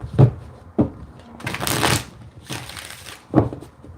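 Close-up tarot card shuffling, with a few sharp taps and knocks around two longer riffling passes.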